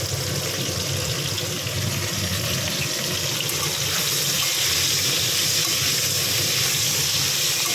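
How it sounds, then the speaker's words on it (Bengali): Cauliflower pieces fry in hot oil in a home kitchen pan, a loud continuous sizzle and crackle, close and steady for the whole stretch. "এবার ফুলকপিগুলো দিয়ে একটু ভেজে নেবো"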